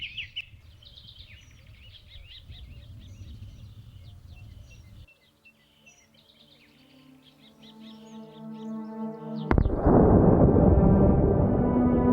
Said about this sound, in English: A dawn chorus of birdsong.